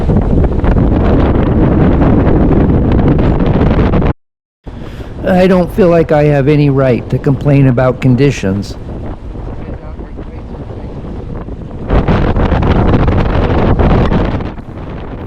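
Strong storm wind gusts buffet a sailboat on the intracoastal waterway, a loud roaring blast that cuts out briefly, then continues under someone talking before surging again.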